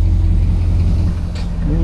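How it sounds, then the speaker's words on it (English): A parked pickup truck idles nearby with a low, steady engine rumble, loud and continuous, and a brief rustle on top near the end. "Yeah, truck's running."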